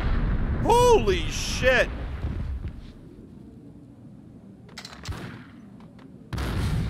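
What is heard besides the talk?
grenade explosion in the video game Max Payne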